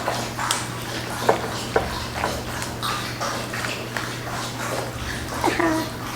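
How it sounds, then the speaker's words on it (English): A dog laps water from a bowl close to the microphone in a home kitchen, with quick wet splashy laps in irregular bursts over a low steady appliance hum. "Hear my dog drinking water?"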